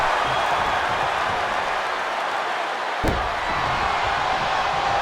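Steady roar of a wrestling arena crowd in WWE 2K22, a dense continuous wash of noise with one sharp impact near the middle.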